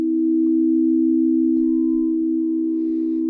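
Frosted crystal singing bowls from a three-bowl harmonic set ring in a steady, pure sustained tone, with a second higher bowl tone joining partway through, alone and close.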